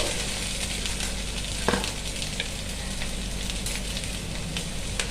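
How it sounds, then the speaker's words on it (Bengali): Ivy gourd and potatoes fry in a pan until browned, giving a continuous dense sizzle at close range with an occasional soft clatter of stirring. "এই যে একদম লাল লাল করে ভাজা হয়ে গেল।"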